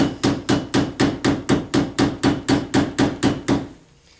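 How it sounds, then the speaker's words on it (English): Hammer peening a rivet on a knife handle: about thirteen sharp metallic blows in a steady quick rhythm, loud and close, ending in a brief quiet tail. "and peen that end."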